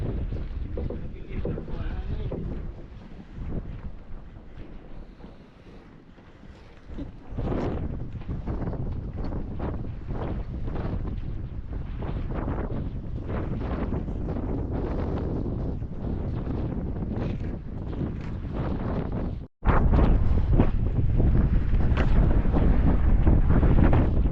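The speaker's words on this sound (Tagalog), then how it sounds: "Grabe lakas ng hangin mga kabisig." Strong monsoon wind buffets the microphone in heavy, continuous gusts, roaring loudly throughout with a sudden cutoff and then an even louder rush.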